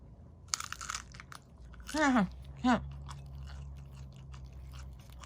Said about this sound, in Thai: เดี๋ยวจะกัดให้ดูนะ